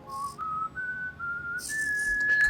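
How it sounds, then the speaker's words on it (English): Someone whistles a melody, clear steady notes stepping upward, close by with no talking. "That's the song that Dad used to whistle in the workshop."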